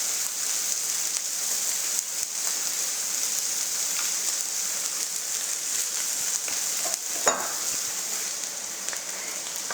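Chicken pieces sizzle in a pan on the stove, a steady bright frying hiss that runs evenly throughout, with a brief louder crackle near the end and no talk.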